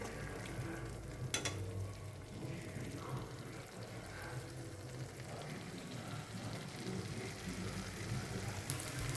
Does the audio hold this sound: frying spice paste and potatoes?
yes